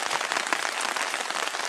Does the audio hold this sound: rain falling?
yes